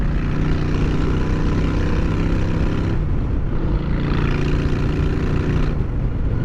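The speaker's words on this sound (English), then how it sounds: "That's a Vance & Hines short shots." A motorcycle engine fitted with Vance & Hines Short Shots exhaust drones loud and close, its deep harmonic rumble holding steady with two brief shifts as the engine note changes, no voices over it.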